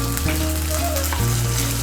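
Chopped tomato goes into onions frying red in a pan, a loud, dense, continuous sizzle up close, with a steady hum running underneath and no talking.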